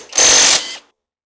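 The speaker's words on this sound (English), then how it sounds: "an impact of this size is great for some of the suspension bolts that we've got on here" A Hercules 20V brushless 3/8-inch compact impact wrench works on suspension bolts in one loud, rattling burst of hammering lasting about half a second, then cuts off into silence.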